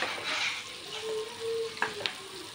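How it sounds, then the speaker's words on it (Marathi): Onion and chopped green chillies fry in a pan with a soft steady sizzle, broken by a couple of brief clinks from a spatula near the end. "कांदा त्याच्यात परतला आहे चांगला।"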